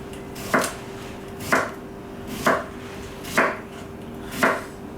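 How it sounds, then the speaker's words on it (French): A knife slices a cucumber on the bias: five crisp, evenly spaced cuts about a second apart, close up over a quiet background hum, with no speech. "Là je vais couper mon concombre en biseau."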